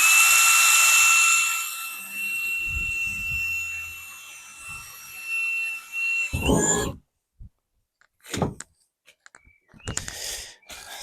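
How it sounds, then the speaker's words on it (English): A power drill bores a pilot hole into wood for a cheap raised bed, a high whining spin with scraping bursts that stops abruptly, followed by a few short clicks and rubs. "I'm going to drill a pilot hole."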